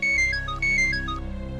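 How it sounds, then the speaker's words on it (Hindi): A mobile phone rings for an incoming call, playing a bright repeating melodic ringtone loud and close, with no voices. "बापू को ही फोन आ गया।"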